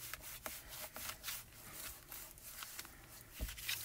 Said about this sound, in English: Take my little piece of junk mail and rub that all over.